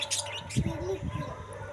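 A caged parrot gives a few scattered chirps and short squawks at close range, with brief irregular calls mixed among soft background sounds.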